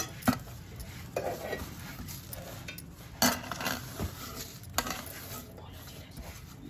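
Fennel and cumin seeds dry roasting in a pan for homemade garam masala, with intermittent scrapes and clinks of stirring against the metal, close and moderately soft over a faint background hiss, with no talking.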